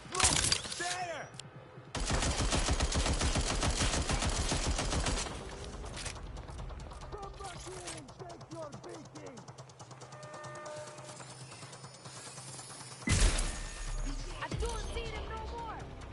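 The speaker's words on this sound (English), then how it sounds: "Gunshots! Listen!" Gunfire in the video game Dog Legion crackles in dense bursts of automatic fire, loud and harsh at the start and again near the end, with shouting voices and combat chatter in between.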